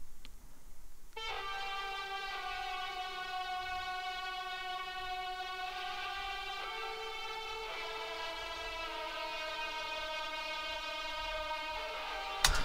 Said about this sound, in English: So that's a heavily affected solo legato violin, as you can see here.